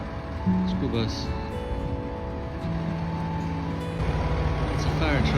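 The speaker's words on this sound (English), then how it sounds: "School bus." A school bus drives past on a street in early morning, its engine a steady low rumble with traffic noise throughout, near and fairly loud, while a fire truck idles nearby and a person speaks over it.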